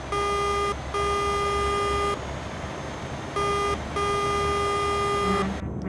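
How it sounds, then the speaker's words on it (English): A truck horn blares in four steady, loud, tonal blasts, two longer and two shorter, with brief pauses between them and a low engine rumble underneath. "Best horn ever, listen."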